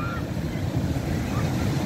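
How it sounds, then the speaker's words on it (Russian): Stormy Black Sea waves at Arkhipo-Osipovka crash and churn continuously close by, a dense roar of surf with gusting wind buffeting the microphone throughout. "Его полностью накрывает волной."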